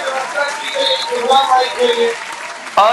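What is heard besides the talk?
audience applause at a poetry recital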